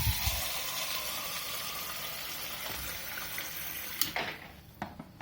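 Water is poured out of a container, likely a sink or basin, in a steady rushing splash that runs for several seconds and then breaks into a few short splashes and drips as it empties.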